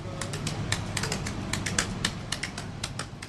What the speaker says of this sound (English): That was the sound of a tap dancer in the French Quarter.